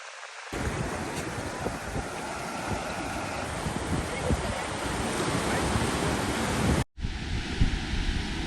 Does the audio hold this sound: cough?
no